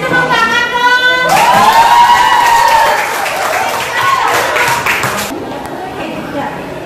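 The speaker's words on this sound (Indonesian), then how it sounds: "Kasih tepuk tangan dong." Indonesian classroom audience clapping and cheering for a student group before their presentation, a burst of applause over a raised voice that then fades into scattered claps.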